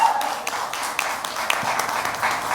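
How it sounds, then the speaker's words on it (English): An audience applauds at a trailer launch event for the series Kaala Paani, a moderate, continuous patter of many hands with scattered sharper claps standing out. "let's make some noise and welcome them with a thunderous round of applause"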